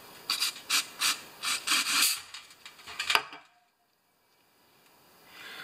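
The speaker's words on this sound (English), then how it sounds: "Carburetor spray." Carburetor cleaner sprayed into the inlet of a Honda E3500 generator that won't run: a series of short, close hissing spray bursts over about three seconds, then near silence.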